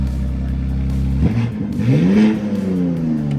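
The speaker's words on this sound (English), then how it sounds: "Your dad's car sounds good." A Honda CRX engine idles with a low steady hum, then revs up twice with rising, whirring pitch before settling back, heard up close with no talking.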